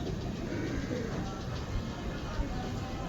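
A Ferozpuri pigeon coos softly amid a quiet, airy background, low and faint, with no talking over it.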